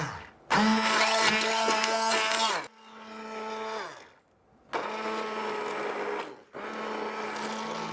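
A blender whirs loudly in several bursts, motor starting and stopping with short pauses between, its high grinding whine close by.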